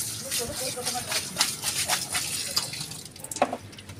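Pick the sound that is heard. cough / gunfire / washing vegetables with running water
washing vegetables with running water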